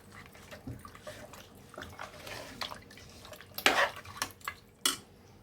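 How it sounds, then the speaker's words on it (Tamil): Metal spoon scraping and clinking against a cooker pot while stirring mutton curry with added water, irregular strokes with a few sharper knocks, moderately close, no talking. "ஊற்றி நல்லா கலந்துக்கலாம்."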